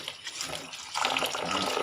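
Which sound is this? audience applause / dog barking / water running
water running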